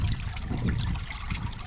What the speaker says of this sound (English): A little stream, little water source.